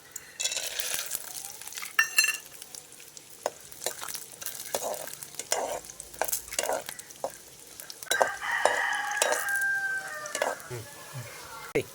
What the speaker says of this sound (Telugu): ముందుగా 2 చెంచాల ఆయిల్ బాగా వేడైన తర్వాత పల్లీలు వేసుకొని వేయించుకోవాలి.